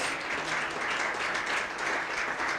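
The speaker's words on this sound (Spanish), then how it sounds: "Denle un aplauso al Señor Jesús." A church congregation breaks into sustained, even applause, a thick wash of many hands clapping at once that stays fairly loud and steady throughout.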